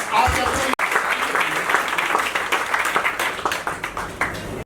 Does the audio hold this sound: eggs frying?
no